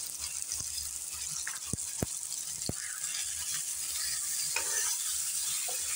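Onions and fish heads sauté in a pan for fish curry, a soft steady sizzle with a few distinct knocks of the spoon against the pan early on.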